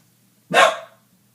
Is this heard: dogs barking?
yes